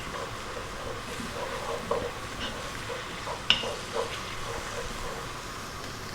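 Garlic ginger paste is stirred in a pan on lively heat for lentil soup, giving a faint low sizzle with a few soft scraping knocks, no talking.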